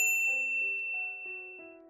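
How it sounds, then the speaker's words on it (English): A bright notification bell dings in a quick sequence of clear, ringing chimes, each note sustaining briefly before the next, heard alone and fairly soft. "ring the bell to get notified about our latest videos"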